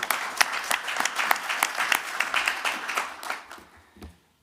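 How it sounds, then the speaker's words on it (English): A conference audience at an opening ceremony applauds, many hands clapping in a sharp, crackling burst that holds steady and then tapers off, with a few last claps before silence. "Let's give them another round of applause."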